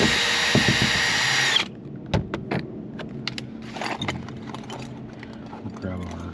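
A power drill backs screws out of the rear door of a 2007 Toyota RAV4, one loud whirring burst near the start followed by faint knocks, clicks and handling noises.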